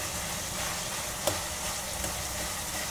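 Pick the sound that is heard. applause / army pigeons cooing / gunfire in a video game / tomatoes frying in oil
tomatoes frying in oil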